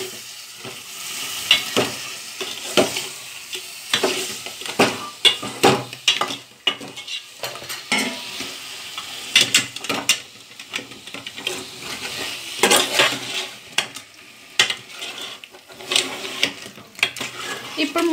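A spoon scrapes and clinks against a pan while crab pulusu is stirred over a sizzling flame, in irregular repeated strokes close by, with occasional quiet talk.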